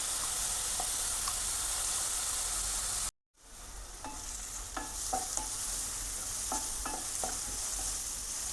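Chopped onion, ginger, chili and garlic sauté in hot oil over a medium gas flame, a steady close sizzle that cuts out briefly, then returns with scattered stirring scrapes and clicks.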